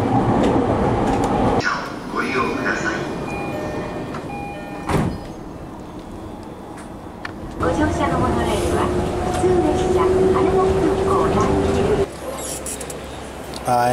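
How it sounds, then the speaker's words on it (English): A subway train rumbles along with rising and falling mechanical whine, rattling and brief squeals, steady and close, with some faint background sounds. "Take the subway to the airport."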